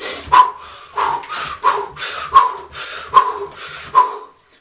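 Forceful rhythmic breathing during on-the-spot jogging and jumping, about seven sharp, loud exhalations in a steady beat, close and alone with no speech.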